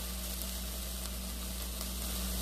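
Dried pollack sizzles in a heated pot with perilla oil while cooking for a potato dumpling seaweed soup, a steady close-up frying hiss with a low hum underneath and no talking.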